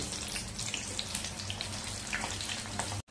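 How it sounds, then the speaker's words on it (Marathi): Green chillies frying in hot oil for potato bhaji, a steady close sizzle and crackle that holds evenly throughout, then cuts off abruptly at the end. "आपण आधी मिरच्या तळून घेऊया, म्हणजे मिरचीचं छान असा तिखटपणा तेलामध्ये उतरेल"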